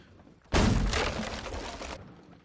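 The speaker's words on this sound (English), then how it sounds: "Oh, that's an explosion." A distant explosion about 350 meters away during a naval battle in the video game Holdfast: Nations At War: a sudden, loud, dense blast that holds for roughly a second and a half, then cuts off abruptly.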